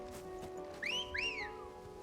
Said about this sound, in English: that's the sexy whistle